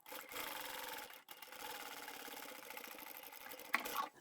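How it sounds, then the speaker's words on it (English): A sewing machine runs steadily, stitching the side seams of small fabric boxes along the edge of the stabiliser, with one brief pause and a few light clicks near the end. "So I'm just sewing right along the very edge of the stabiliser."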